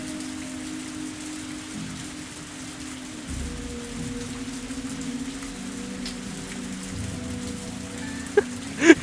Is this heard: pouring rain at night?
yes